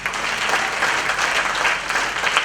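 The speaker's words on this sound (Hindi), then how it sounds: "एक बार जबरदस्त तालियां दीदी सुखविंदर कौर गरेवाल के लिए," Steady, fairly loud applause from a crowd at a Vadic Dream Group recognition event, a brief burst of many hands clapping together without a break.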